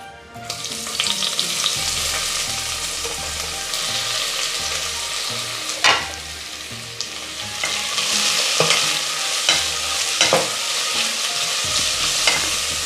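Sliced onions with spices frying in a pan for beef mappas, a dense continuous sizzle with repeated stirring scrapes and occasional spoon clinks, close and loud throughout.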